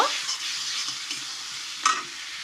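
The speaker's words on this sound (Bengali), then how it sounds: "সামান্য একটু হলুদ গুঁড়ো, চাট মশলা দিয়ে এটাকে কষিয়ে নেব।" Potatoes sautéed in a pan with turmeric and chaat masala give a soft sizzle, with stirring scrapes and one sharper clink of the spoon near the end, close and moderately quiet, no speech.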